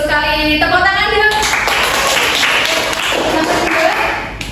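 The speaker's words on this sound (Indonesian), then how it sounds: "Tepuk tangan dulu." A classroom of Indonesian pupils claps together after a history quiz, a burst of dense applause following a brief spoken line, continuing steadily for several seconds at close range.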